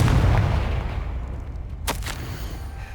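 Explosive Confringo spell blasts in the video game Hogwarts Legacy, a loud booming rumble that slowly fades, then a sharp crack near the end.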